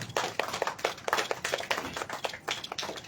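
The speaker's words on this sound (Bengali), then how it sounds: "অয়ন বাবুর জন্য এবং অনুপ বাবুর জন্য একবার হাততালি হয়ে যাবে" Audience applause at a film festival awards ceremony in a cinema hall, a dense patter of many hands clapping steadily for about three seconds, fairly close and without speech.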